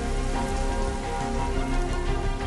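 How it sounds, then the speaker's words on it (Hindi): Steady rain falls on a village in Uttarakhand during the first rain of the year, a dense, even patter of drops hitting surfaces that fills the whole clip without pause. "ये बारिश भी इस साल की फर्स्ट बारिश हो रखी है"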